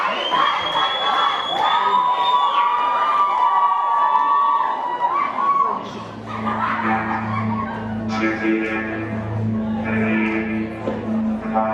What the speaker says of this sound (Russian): Ваши аплодисменты смотрим.